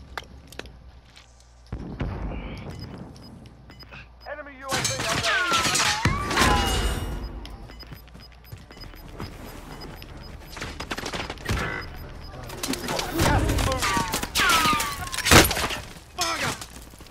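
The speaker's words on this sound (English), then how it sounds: "Another team firing at him." Call of Duty Warzone gunfire in a doubles match near a train car, bursts of rapid shots and cracking impacts in clustered volleys with quieter gaps between, close and loud.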